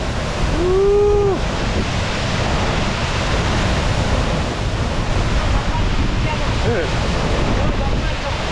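Binaan Falls in Buldon, Maguindanao, a steady broadband rush of falling water close by, with wind buffeting the microphone and a short whistle-like cry near the start, no talking.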